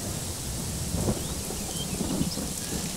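Rain falls in the Farming Simulator 22 video game on an Indian-style farm, a steady, fairly loud broadband hiss throughout with a couple of slightly stronger gusty swells and no voices.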